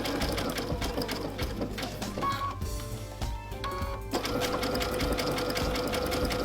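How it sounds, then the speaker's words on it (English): A sewing machine runs a dense satin stitch around raw-edge applique, whirring steadily and loudly throughout with a brief change in tone as the fabric is pivoted at a gentle corner. "I'm just going to easily pivot like that and continue sewing"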